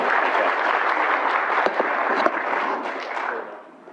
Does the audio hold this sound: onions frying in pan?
no